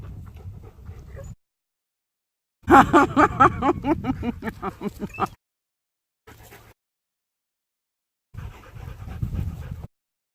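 A Rottweiler-Labrador mix pants at a dog park in rapid, rhythmic breaths, close to the microphone, coming in several bursts separated by silent gaps, with one longer loud stretch of heavy panting.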